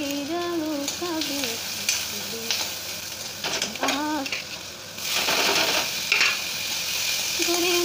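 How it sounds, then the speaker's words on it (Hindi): Onion frying in hot oil in a pan for Maggi noodles, a bright steady sizzle with stirring clatter that swells louder toward the end, while brief voice-like tones sound early on. "तेल हो गया है गरम, इसमें डाल देते हैं हम अपना प्याज।"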